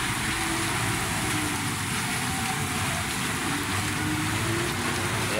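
A motorcycle pushes through deep flood water in a city street, a steady broadband wash of churning water and rain-like hiss filling the scene, loud and unbroken throughout.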